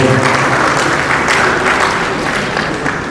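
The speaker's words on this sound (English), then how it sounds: "a round of applause for him" Audience applause after a welcome address at an opening ceremony in Ogun State, a thick continuous burst of many people clapping, loud and close, easing gradually toward the end.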